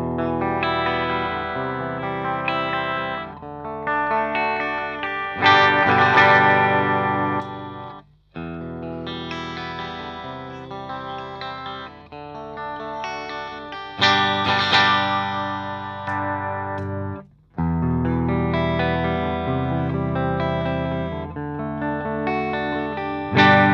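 Epiphone Les Paul electric guitar played loud through effects with distortion and chorus, ringing chords and riffs, close and continuous apart from two brief breaks, with no talking.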